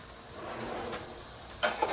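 Mexican longaniza chorizo sausage sizzling steadily in a frying pan with cacti in chili rojo, then a couple of sharp pops and a scrape near the end, close and alone.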